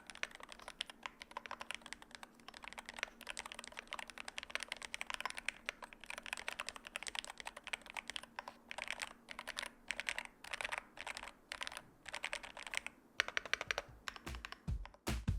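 Steady rapid typing on an Epomaker Magforce 68 wired gaming keyboard, a top-mount board packed with sandwich and bottom foam, giving continuous close, crisp keystroke clatter with no talking.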